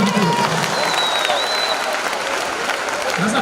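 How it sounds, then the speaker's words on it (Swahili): A conference audience at a business success event claps for itself, producing sustained, loud applause from a large crowd. Faint voices sit under the clapping. "Hebu jipigie makofi ndio tunakuwa."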